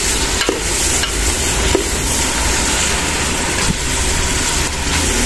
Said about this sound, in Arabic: شويه ديال السمن شويه ديال الابزار والملحه هيايا صافي غادي نخلط هذا الشيء كامل